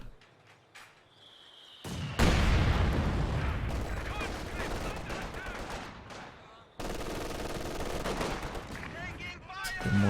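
Mortar blasts and gunfire in the Company of Heroes 2 strategy game, with loud booming impacts and rattling weapon fire in dense bursts. A commentator talks over the battle.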